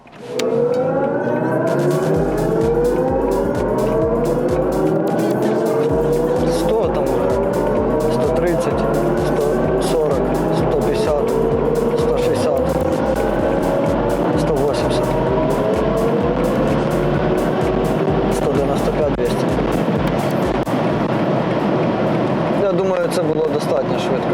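BMW iX50 electric car accelerating hard from 0 to 100 km/h on a prepared track, a loud rising electric motor whine with climbing tones over road and wind roar, continuous and close.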